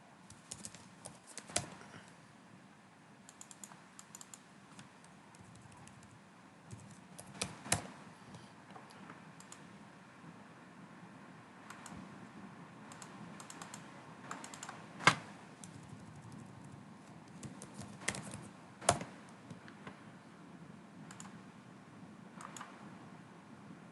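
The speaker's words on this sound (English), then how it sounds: "Now I'll type the name of the authors here." Quiet typing on a computer keyboard, scattered soft key taps with a few sharper clicks, irregular and close over a low background hiss, with no talking.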